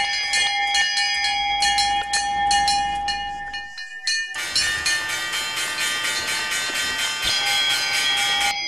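Bells in a children's Easter story ring in a rapid, bright chiming pattern, briefly broken by a pause before a fuller, louder peal continues steadily.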